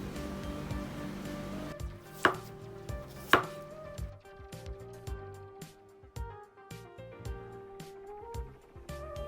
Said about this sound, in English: we are going to wear our face shield to cut our shallots, to slice our shallots